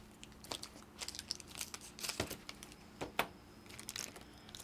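Scissors cutting into a plastic Model Magic clay package, with irregular crinkling and snipping crunches in short bursts, close and quiet.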